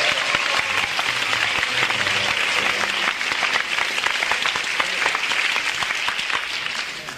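A live audience at a bluegrass show applauds a guitarist and singer: a full, steady round of clapping from many hands, loud and even throughout, easing off only at the very end.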